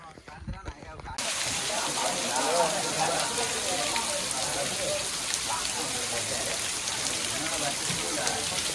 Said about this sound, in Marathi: खतरनाक पाऊस आहे बाई